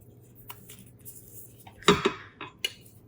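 A spoon stirs food in an Instant Pot, sounding as a few sparse metallic scrapes and knocks against the pot, with one louder clatter near the middle, close by and otherwise quiet.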